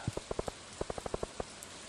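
Rain in the Stardew Valley video game, heard as a run of soft, evenly spaced droplet taps of moderate level, with no talking.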